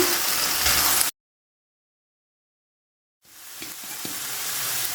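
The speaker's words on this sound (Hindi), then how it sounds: "सबसे पहले मैं ये तीनों सब्जियाँ डाल दूँगी। सबको मिक्स कर लेंगे।" Three vegetables, cabbage among them, sizzling and being stirred in a pan, a bright loud frying hiss that cuts out abruptly, then after a silent gap the sizzle returns with a few stirring knocks.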